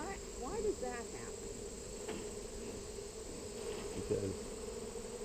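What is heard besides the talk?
honey bees buzzing around an opened hive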